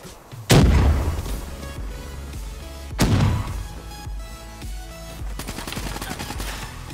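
KN44 gunfire in a Call of Duty match, loud close rifle shots with two heavy booming bursts followed by rapid rattling fire and ringing echoes.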